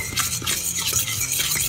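Egg, flour and seasoning stirred together in a bowl for fish-and-chips batter, making a continuous close scraping and clinking that runs steadily throughout with no talk.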